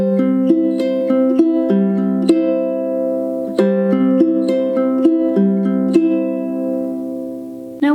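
A ukulele strums a song's pattern at song tempo in a lilting triple-feel rhythm, bright plucked chords repeating close and clear with no voice, ending on a sustained ring.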